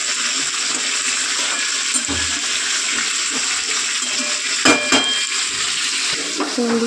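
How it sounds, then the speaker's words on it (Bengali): Potatoes fry in oil in a kadai, a steady broadband sizzle running throughout with occasional faint clinks and stirring, no talk. "আলুগুলো ভাজা হলে তুলে নেব।"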